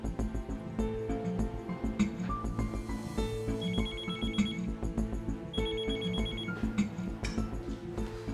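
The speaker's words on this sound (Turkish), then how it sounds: "Aç şu telefonu ya." A telephone rings insistently in a Turkish TV drama scene, repeated electronic ring bursts over a busy, steady background.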